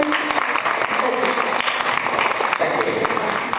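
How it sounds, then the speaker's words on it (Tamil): Steady, loud applause from an audience welcoming a Carnatic music performer at a stage event, continuous clapping with crowd murmur beneath. "அங்கே உங்கள் கரகோஷம்"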